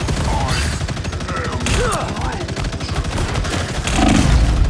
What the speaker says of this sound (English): he's just randomly shooting back and forth right now